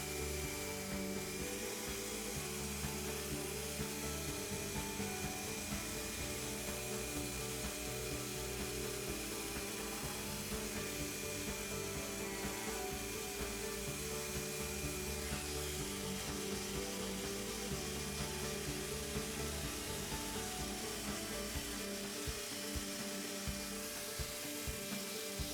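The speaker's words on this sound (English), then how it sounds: "The first step of the final sanding is the 2-speed sander." A 2-speed sander works a plastic repair in a continuous, even drone with a faint rubbing texture, steady and unbroken for the whole stretch.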